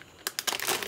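A plastic packet of soup ingredient crinkles briefly and softly in a kitchen during chicken soup preparation, a quick burst of close crackling rustles.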